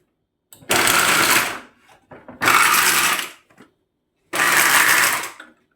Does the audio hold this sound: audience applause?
no